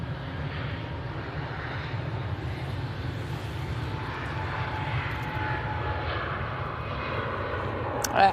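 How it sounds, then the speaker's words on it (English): An Airbus A321neo jet takes off from Manchester Airport, a steady broadband engine roar with a low rumble that holds constant and grows slightly louder toward the end, with no talk. "this plane that's just taken off, that's the A321neo"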